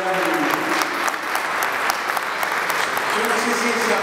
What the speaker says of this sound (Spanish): Yo no sé si ese aplauso es para nosotros mismos desenajenándonos